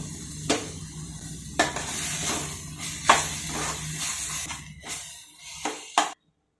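Rajma gravy with garam masala, turmeric and salt being stirred and sautéed in a pan: a steady sizzle broken by sharp scrapes and clinks of the spoon against the pan, ending abruptly.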